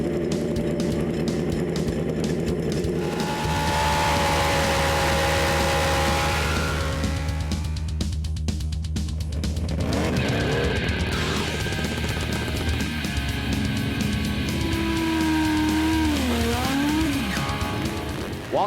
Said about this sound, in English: Welcome everyone to Biker TV at the Medicine Hat Drag Strip.